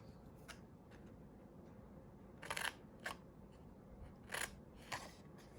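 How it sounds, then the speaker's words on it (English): Scissors snip through card along score lines for a pop-up shaker box base, a handful of short crisp cuts in quick clusters over a quiet background. "So grab your scissors, and we are going to cut along"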